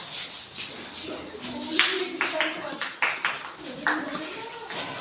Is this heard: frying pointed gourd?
no